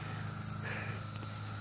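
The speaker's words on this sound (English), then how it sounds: "that concludes this video of the cicadas" Cicadas in Woodlawn, Maryland drone steadily in a high continuous buzz, with traffic rumble beneath.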